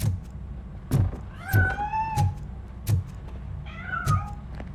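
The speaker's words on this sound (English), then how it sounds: "That cat must be hiding inside." A cat hiding inside a piano in Robocop: Rogue City meows twice, with rising, drawn-out cries over soft, regularly repeating game thumps in the background.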